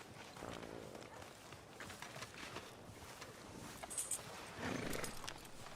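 Horse hooves clop softly in Red Dead Redemption 2, a faint, steady walking rhythm mixed into low game ambience with a little birdsong.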